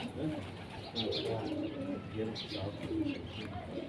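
Soft, repeated pigeon cooing with some chirps, steady and fairly faint against a murmur of background noise.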